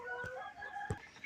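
Faint clucks and soft calls from young chickens in a backyard coop, a couple of brief low bursts close by over a quiet background.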